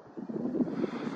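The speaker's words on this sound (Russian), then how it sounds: "Ну, с ветром я ничего не сделаю." Outdoor wind buffeting a microphone at night under a city sky near Kharkiv, a steady low rumbling roar that swells and dips unevenly for about a second, with no speech.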